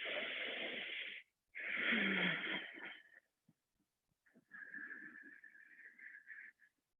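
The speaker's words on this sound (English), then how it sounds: "you can do long, deep breathing of in and out" Long, deep breaths drawn in and out slowly as a self-compassion breathing exercise, a strong breathy inhale and exhale near the listener, a brief pause, then a softer, longer breath that trails off.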